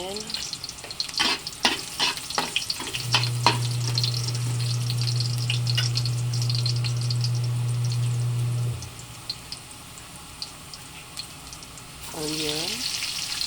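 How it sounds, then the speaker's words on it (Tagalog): Garlic sizzles in hot oil in a pan as pakbet cooking begins, a steady frying hiss with a low sustained hum across the middle, scattered clinks and splashy kitchen noise before and after. "Magsasaute muna tayo ng bawang, garlic,"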